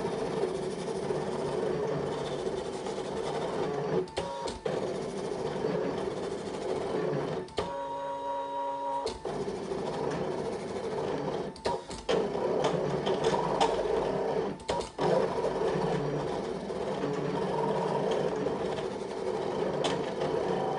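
Fabric cutting machine cutting a coaster shape from fabric, a steady mechanical whirring and buzzing that runs continuously throughout, with short stepped tonal bursts of motor movement partway through.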